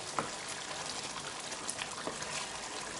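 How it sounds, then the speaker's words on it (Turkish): Tomato paste sauce is poured into green lentil noodle soup, a soft, continuous wet hiss and gurgle with a few light splashes and clinks, close and fairly quiet, with no one talking. "Sosu çorbanın içerisine dökelim."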